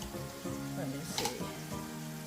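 Chicken burgers sizzle in a hot cast iron pan with a steady, close frying hiss, while a voice talks over it and a brief clatter cuts in midway.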